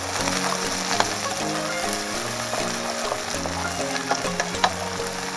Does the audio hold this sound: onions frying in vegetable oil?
yes